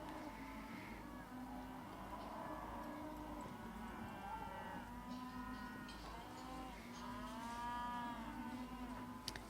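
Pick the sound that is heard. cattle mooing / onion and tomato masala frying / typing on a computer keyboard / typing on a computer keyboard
cattle mooing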